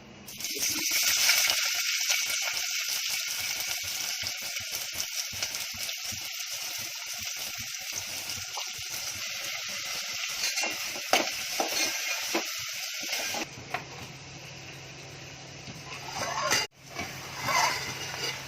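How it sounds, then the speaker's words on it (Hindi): Mutton and onions frying in a pot, a steady loud sizzle and hiss that suddenly drops away near the end, leaving quieter background sound. "एक इधर गोश्त चढ़ा रही हूँ प्याज लाल होने के लिए"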